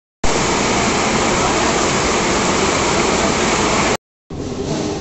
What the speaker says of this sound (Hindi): यहां जबरदस्त बारिश की झड़ी, एकदम जबरदस्त, आवाज़ सुन रहे हो